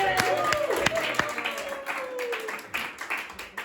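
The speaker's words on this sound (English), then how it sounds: "round of applause for Kaenny" Classroom applause for a student in a language class: a short burst of clapping from a few people, fairly close, mixed with voices talking over it.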